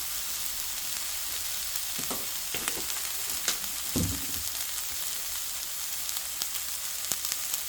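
Salted raw cucumber sizzles in a hot pan over high heat, a soft steady frying hiss with a few stirring scrapes and clinks near the middle, no voices.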